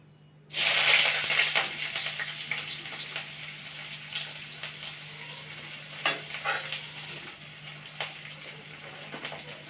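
Onions hit hot oil for Assamese dal in a home kitchen, bursting into a loud sizzle that starts abruptly and keeps frying steadily, with occasional stirring scrapes, no talking.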